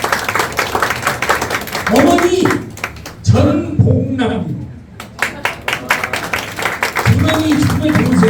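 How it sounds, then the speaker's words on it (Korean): Clapping rings out at a Korean political event for a lawmaker's parents, short bursts of audience applause alternating with an amplified voice speaking through a microphone. "박수 보내주시고요"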